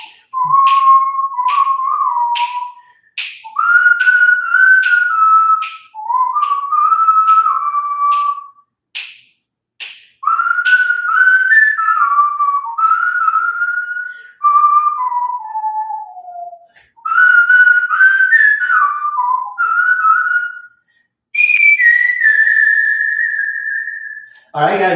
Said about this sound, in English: I'll try to whistle them the best that I can.